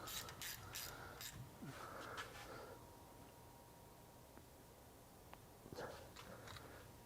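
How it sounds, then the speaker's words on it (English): A ratchet wrench clicks in short bursts while tightening a differential drain plug on a car's rear end, with a couple of quick runs early on, a long quiet stretch, and another brief burst near the end, close by. "So I'll go ahead and tighten up my drain plug."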